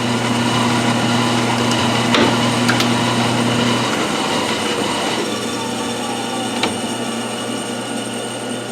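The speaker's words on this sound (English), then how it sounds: "Now we're going to power tap. Now it's spinning." A lathe power-taps a thread into a knurled nut, producing a loud steady whirring hum with tonal drone lines and a few sharp ticks, where the pitch drops and the texture changes partway through.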